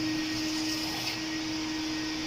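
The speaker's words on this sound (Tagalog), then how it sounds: "May vacuum pa." A vacuum cleaner runs during interior cleaning at a car service for an MG5, holding a steady, even whine with a faint hum underneath and no talk.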